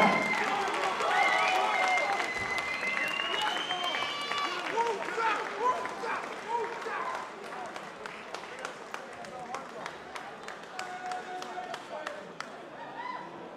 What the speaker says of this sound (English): Round of applause, show your love for the Nicky Ninjas, Alan Johnston!